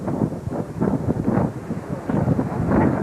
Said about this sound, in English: Very windy here today.